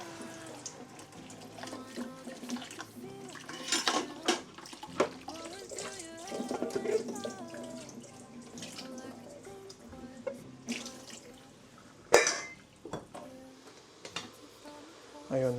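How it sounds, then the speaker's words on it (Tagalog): A running tap splashes over plates being washed in a sink, a steady trickle broken by clatters of dishes and splashes, with occasional voices in the background. "Hugas muna tayo ng mga plato habang inaantay maluto yung puto."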